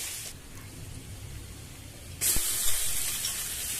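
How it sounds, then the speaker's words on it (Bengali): Half a cup of chopped onion goes into hot soybean oil left from frying fish: a soft hiss suddenly jumps to a loud, close, steady sizzle that carries on to the end. "ওই তেলের মধ্যেই আমি দিয়ে দিলাম হাফ কাপ পেঁয়াজ কুচি। হালকা বাদামি করে ভেজে নিব।"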